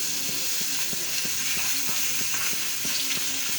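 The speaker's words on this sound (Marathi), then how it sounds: "चला तर तेल तापलेलं आहे आपलं, ह्याच्यात चिरून सुद्धा आपण घालू शकतो लसूण।" Chopped garlic frying in hot oil, a loud continuous sizzle with a rhythmic scraping pattern as it is stirred around the pan, with no talking.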